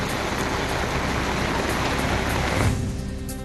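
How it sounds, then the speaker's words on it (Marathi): Unseasonal rain over waterlogged roads in Latur, a dense, steady wash of broadband hiss that holds loud and unbroken before easing slightly near the end, with no voices. "लातूरमध्ये अवकाळीमुळे रस्त्यांवर पाणी साचलं."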